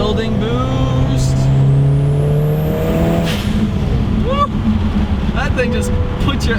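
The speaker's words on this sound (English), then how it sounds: "when you hear that blow-off valve and the turbo spooling" A 2008 Subaru WRX STI with a Perrin front-mount intercooler, its turbo spooling with a rising whistle as the engine revs and builds boost, then releasing sharp blow-off valve hisses, loud and close.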